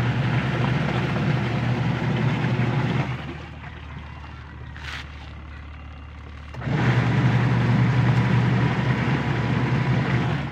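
A washing machine with a newly replaced gearbox runs with a loud, steady mechanical drone and low hum, dropping quieter for a few seconds in the middle before returning at full strength.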